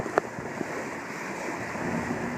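A sailing boat heels over at a steady 7 knots in open water, with continuous rushing water along the hull, wind buffeting the microphone and a few faint knocks.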